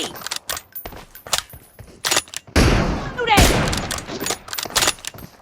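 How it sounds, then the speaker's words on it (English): Gunfire in a one-versus-one sniper team deathmatch video game, with sharp shots scattered in a burst pattern and one longer, louder blast in the middle, close and punchy alongside brief game sounds. "Cover me! Shooting!"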